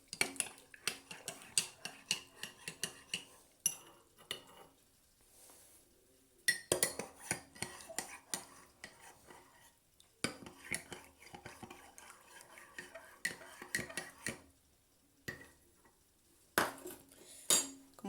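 Stirring mixtures in glasses for a solubility experiment, a spoon clinking and scraping against glass in quick rhythmic bursts, with short pauses between rounds, close and clear with no talking.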